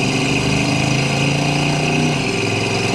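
A 1971 Chevrolet El Camino with a 350 V8 and automatic transmission pulls under throttle, its engine note a loud, steady rumble with rich harmonics that drops slightly near the end as the gearbox shifts, with no voices.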